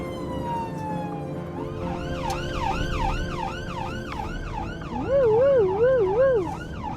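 An ambulance siren wails in a loud, steady up-and-down pattern that climbs and rises in pitch, with a second faster warble joining near the end, close by and with almost no talk.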